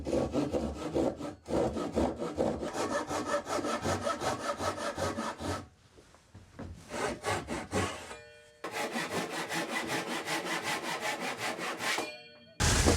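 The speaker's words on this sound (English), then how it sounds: "Now then, I can take my pull saw and cut down along my lines to my depth mark." A hand pull saw cuts down into wood along marked lines to a depth mark, giving steady rapid rasping strokes in long bursts with brief pauses between runs, close and loud.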